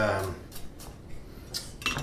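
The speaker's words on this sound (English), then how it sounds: "that's about the most basic, simple chopping technique, rocking the knife" A kitchen knife chopped with a rocking motion on a cutting board, making a quick run of sharp clicking taps at irregular intervals, close up and with no talking.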